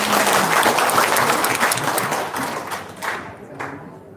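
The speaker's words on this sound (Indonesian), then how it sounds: "tepuk tangan dong, luar biasa." An audience at a live event claps and applauds loudly for a few seconds, the dense clatter of many hands gradually thinning out toward the end.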